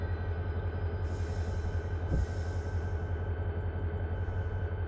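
A coal switcher train in Run8 Train Simulator comes to a stop, a steady low rumble with a faint brake hiss and a single brief clank midway, no talking.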